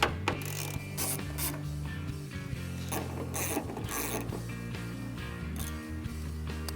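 A ratchet removes the two 5/16 bolts holding a tail light on a 2009-2014 Ford F150. It gives quiet, close clicking bursts in short repeated strokes with brief pauses between them.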